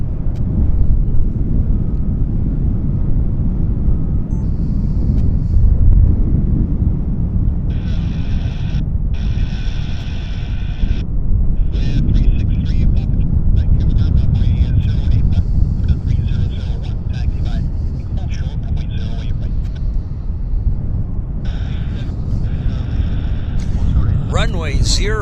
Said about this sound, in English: we've got another departure here. An Air Canada Jazz CRJ that's headed to Sacramento as the Air Canada 8596